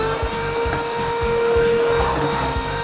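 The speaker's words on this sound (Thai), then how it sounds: "ลองดูดฝุ่นที่ติดทนนานนะครับ" A Han River cordless vacuum cleaner runs close and loud with a steady motor whine and a pulsing low rumble as it works over a storeroom floor, with no other sound.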